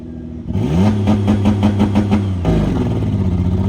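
A two-wheel drive tuff truck roars off on a race pass, its loud engine revving up through rising gear pitches, dipping briefly near the end and then climbing again, close and continuous with no talk.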